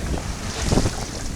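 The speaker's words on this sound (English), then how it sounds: "We have good wind, perfect wind." Steady wind gusts buffet the microphone aboard a trimmed sailboat on open water, with waves washing faintly underneath in a continuous, close rush and no voices.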